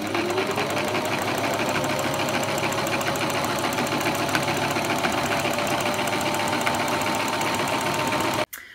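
A domestic sewing machine running steadily for free motion quilting with a darning foot, its fast, even motor hum and needle chatter continuing without pause before stopping abruptly at the end.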